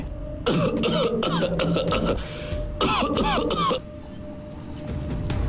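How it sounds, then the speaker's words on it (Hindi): An elderly grandfather coughs in two harsh, rasping bursts, several hacking coughs each, close and loud in a quiet room, with a faint background hum. "तभी दादाजी खांसने लगे।"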